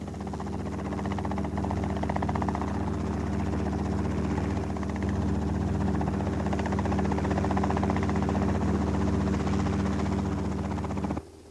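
A helicopter drones steadily with a throbbing rotor beat and engine hum, loud and constant, then cuts off abruptly at the end.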